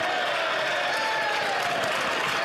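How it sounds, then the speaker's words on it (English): Applause from members in the House of Commons during Question Period, a steady broadband patter of many hands lasting throughout, moderately loud, with faint voices and tonal sounds mixed in beneath. "give him some applause"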